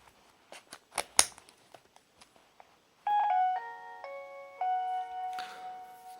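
A Nokia 6610 mobile phone from 2003 plays its short polyphonic startup melody, a few clear stepped electronic tones ringing out close and alone after some light clicks and taps of handling.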